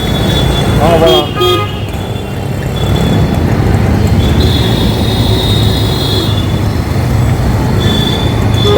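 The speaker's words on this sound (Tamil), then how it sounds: "செம்ம டிராஃபிக் இங்கே." Dense road traffic heard from a moving motorbike in a busy city: a continuous engine and road roar with sharp horn toots near the start and later, loud and close.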